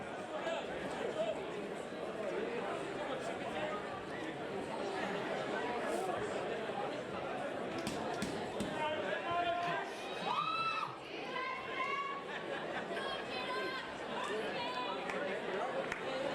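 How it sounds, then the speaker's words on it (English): Spectators filling a boxing venue in Auckland before a female bout make a continuous, moderately loud crowd murmur, with scattered shouts and voices rising above it. "Crowd slowly starting to fill in here"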